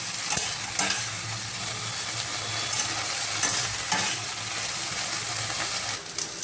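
Small cut okra pieces frying in a pan, a steady close sizzle with occasional stirring clinks and scrapes throughout.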